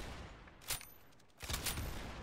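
Gunfire in the Roblox shooter game Arsenal, with two short bursts of shots about a second apart, moderately loud against a low background and no talk.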